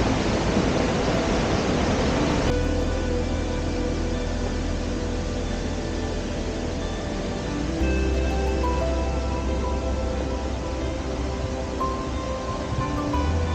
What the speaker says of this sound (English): The sound of the waterfall becomes clearer now